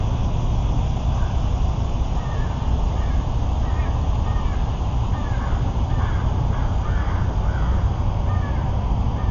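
Crows cawing in a cemetery by a wooded area, several calls scattered over a steady loud wash of wind or distant traffic, with no clear voices.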